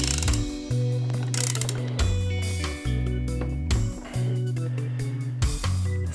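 A 17 mm ratchet wrench tightens a nut on a small engine, giving loud close bursts of rapid clicking, several separate stretches of ratcheting with brief pauses between strokes, no talking.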